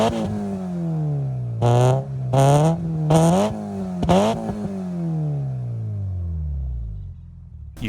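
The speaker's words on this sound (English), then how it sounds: "new exhaust definitely sounds great" A car engine with a new exhaust and a throttle issue revs repeatedly, several sharp throttle blips rising and falling over a deep idling rumble, close and loud.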